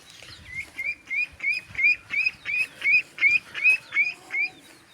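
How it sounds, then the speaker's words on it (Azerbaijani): Newly hatched chicken chicks peeping close by, a regular run of about a dozen bright, short cheeps in quick succession, with faint rustling beneath. "kəkilli cücə, bu toyuğun balasıdır"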